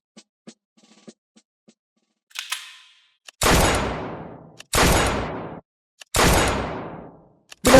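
Three loud, sharp shots in a shooting competition, each followed by a long ringing decay, spaced about a second and a half apart after a few faint clicks and a softer burst, with no talking.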